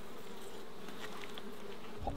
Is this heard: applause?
no